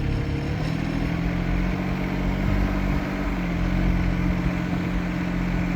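A Kymron XH20D mini-excavator engine runs steadily near the microphone, throttled up to roughly 1,700 RPM, giving a continuous loud low drone with a constant hum and no pauses.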